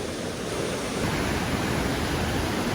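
Waterfall on a creek in the Angeles Forest: a steady, loud, broadband roar of falling water, continuous and close throughout, with no voices.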